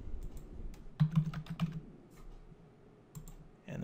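A URL being typed on a computer keyboard: a short run of quick, close key clicks, a pause, then a few more taps.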